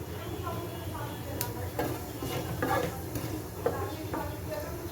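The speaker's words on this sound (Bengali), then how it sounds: "আমি একটি প্যানে তেল গরম করে নিয়েছি এখন দিয়ে দিচ্ছি এক চামচ জিরে আস্ত জিরে" Whole cumin seeds fry in hot oil in a pan with a soft, even sizzle, while a spoon stirs and taps against the metal several times, all fairly quiet and close.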